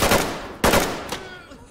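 Close, loud gunshots from a gun in the video game Ready or Not: two heavy blasts that ring out and fade, followed by a softer third shot.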